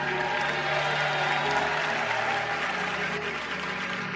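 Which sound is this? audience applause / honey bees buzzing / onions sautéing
audience applause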